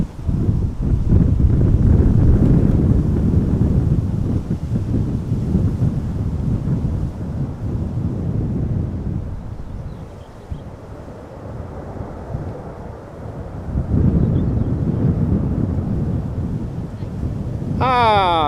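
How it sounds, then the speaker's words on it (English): An Airbus A330 heavy taking off from a runway at a windy Amsterdam Schiphol, heard as a loud, deep, sustained engine roar that dips midway and then swells again, with gusty wind buffeting the microphone throughout. "Meanwhile, another heavy taking off from the other runway,"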